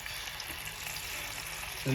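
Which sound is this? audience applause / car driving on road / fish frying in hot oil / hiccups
fish frying in hot oil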